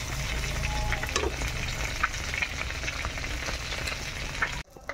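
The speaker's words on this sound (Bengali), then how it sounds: "তো চলো মাছের তেলটা এখন ভেজে নিই।" Fish fat fries in hot oil, crackling in a continuous close sizzle with occasional pops and soft stirring, cutting off abruptly just before the end.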